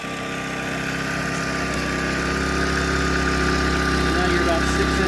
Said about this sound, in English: Really a pretty quiet generator.